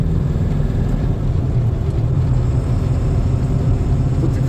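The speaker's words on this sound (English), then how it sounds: "I can hear a little exhaust noise right now." Pickup truck fitted with a 4-inch exhaust cruising at about 2,500 RPM, a steady low engine drone and exhaust rumble heard from inside the cab, constant and fairly loud with no talking.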